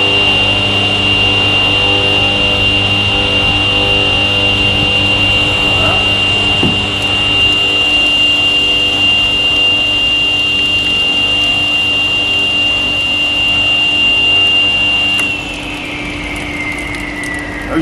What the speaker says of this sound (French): Parce que je vais mettre ma machine en route pour laver le circuit en fait.